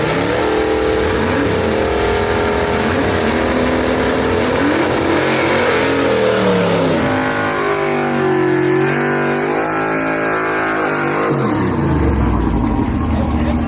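Gasser drag race cars at Mooresville Dragway roar hard under acceleration, engine pitch climbing through gear changes across a long loud pass, with a commentator talking over the racket.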